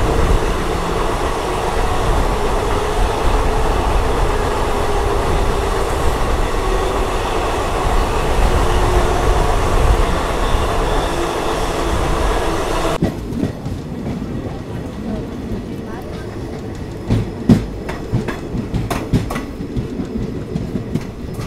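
Vijayapura–Yesvantpur Express rolling along with a loud, steady rumble and clatter of wheels, then after a sudden change the sound drops to a quieter, sparser rattle marked by sharp clicks and knocks.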